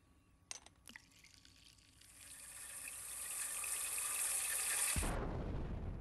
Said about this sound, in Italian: Aggiungiamo i nostri liquidi.